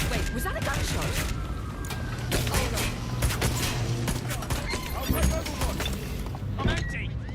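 Sustained gunfire in the video game Watch Dogs Legion, dense rapid shots and crackling bursts repeating throughout, loud and close, with booms and a voice talking over the shooting.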